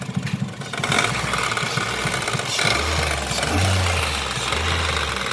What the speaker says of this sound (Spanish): Es el sonido que hace cuando el extensor del vehículo está mal.